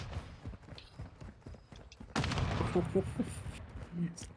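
Gunfire in Call of Duty Modern Warfare 2 multiplayer, rapid bursts of shots crackling in quick succession, swelling to a louder barrage halfway through, with players' voices murmuring underneath.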